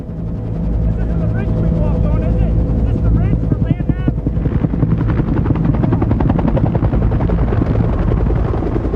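UH-1 Huey military helicopter in flight, with a loud, continuous rotor thump and engine roar and a narrator's voice over it.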